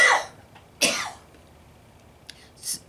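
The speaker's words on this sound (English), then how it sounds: "that aggravates this cough of mine" Two harsh, close coughs spaced apart, followed by quieter throat noises and a breathy exhale.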